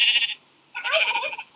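Sheep bleating in the Minecraft Mo' Creatures mod video game: a short synthetic bleat, a brief pause, then a longer wavering bleat, close and clear with no talk.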